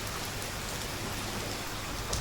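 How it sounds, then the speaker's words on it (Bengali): Heavy rain pours during a Baisakh storm, making a dense, even roar of drops on surfaces that stays loud and constant throughout, with no voices. "অনেক বৃষ্টি হইতেছে"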